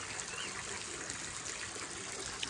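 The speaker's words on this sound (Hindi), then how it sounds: "साइड में से पानी जा रहा है" A mountain stream trickles steadily beside a high road on the Shinkula Pass route in Zanskar, a continuous broad wash of running water heard from nearby with no voices.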